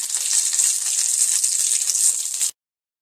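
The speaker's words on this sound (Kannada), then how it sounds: "ಕರಿಬೇವು ಹಾಕ್ತಾ ಇದ್ದೀನಿ." Curry leaves hit hot oil in a pan with ginger and crackle into a loud, steady sizzle close by for about two and a half seconds before it abruptly cuts off.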